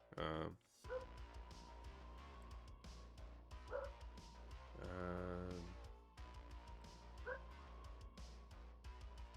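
Household dogs bark and yip in short repeated bursts, with whimpering between them, fairly close. A person talks intermittently over the barking.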